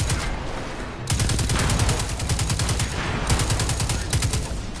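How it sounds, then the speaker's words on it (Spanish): Rapid automatic gunfire from the shooter video game Destiny 2, dense bursts of shots rattling close and loud after a quieter first second, with short pauses between volleys and no talk over it. "¿Me están disparando?"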